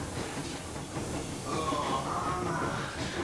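A train, the Yermak steam locomotive in the video game Metro Exodus, running with a steady loud rolling rumble and hiss, a faint whine rising partway through.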